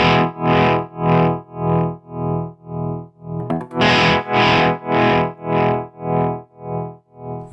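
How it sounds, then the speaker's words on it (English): A steady distorted guitar tone pulsing smoothly in volume from a tap tempo tremolo pedal set to a sine wave, about two swells per second, rounded and even throughout, with no talking. "We've then got the sine wave."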